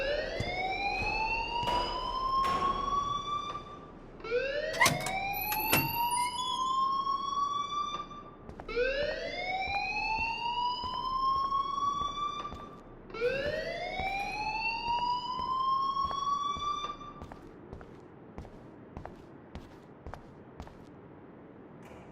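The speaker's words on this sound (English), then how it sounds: "please turn off that alarm since that's your job" An electronic alarm in Life is Strange Remastered repeats four rising whooping sweeps, loud and steady, then cuts off leaving quiet background.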